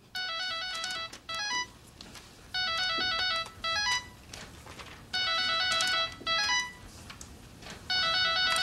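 A cell phone ringtone plays a bright electronic melody in four repeated bursts, each about a second long with short gaps between them, clear and close with no talking.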